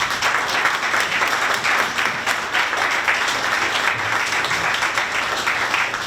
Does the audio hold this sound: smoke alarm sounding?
no